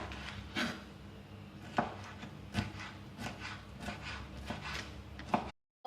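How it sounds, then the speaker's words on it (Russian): A knife slices bell pepper into thin strips on a board, giving a quiet series of irregular chopping taps and scraping strokes, up close with no talk. "Болгарский перец я также нарезаю соломкой."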